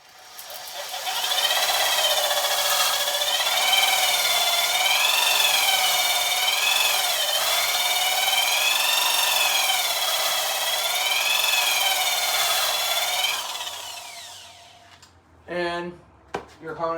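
A drill-driven hone working inside the cylinder bore of a Predator 212 engine, a loud continuous whirring grind with a wavering pitch that runs for about thirteen seconds, then stops, followed by a brief voice.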